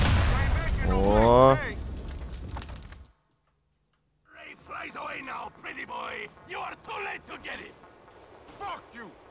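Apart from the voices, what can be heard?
explosion in a video game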